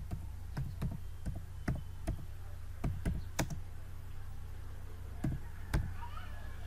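Typing on a computer keyboard, about a dozen sharp, separate key clicks in an irregular rhythm over a low steady hum.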